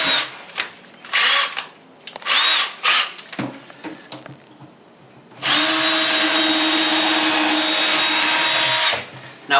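Power drill boring a second screw hole on the hinge side of a wood cabinet: several short whirring bursts, then one long steady close drilling run.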